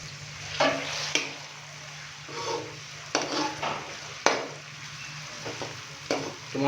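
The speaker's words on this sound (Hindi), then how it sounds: "टमाटर डालने के बाद अच्छे से हम इसको मिक्स करेंगे। और यहाँ पे हम टमाटरों की अच्छी तरह से भुनाई कर लेंगे।" Chopped tomatoes are stirred and fried in a pan for Bannu beef pulao: close, repeated spatula scrapes and clatters over a steady, soft sizzle, with no talking.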